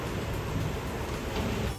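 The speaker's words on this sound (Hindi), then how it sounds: "बारिश की छींटे आ रही हैं।" Heavy rain with thunder pours down and splashes in through wind-blown open windows, a steady, dense roar of rainfall that stays loud and unbroken throughout, with no talking.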